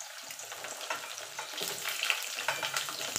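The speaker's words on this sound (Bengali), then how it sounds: "আলুটা একটুখানি নাড়াচাড়া করে নেব। দেখুন বন্ধু, আলুটা ভাজা হয়ে গেছে।" Potatoes fry in a pan with a constant crackling sizzle, with soft scraping stirs from a spoon woven through it, close and fairly quiet.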